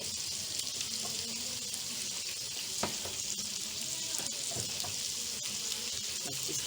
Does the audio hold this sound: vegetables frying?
yes